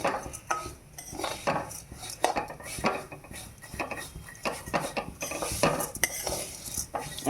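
A spoon stirs and scrapes food frying in ghee in a pan, with repeated metallic clinks and rhythmic scraping over a faint sizzle, close and fairly quiet.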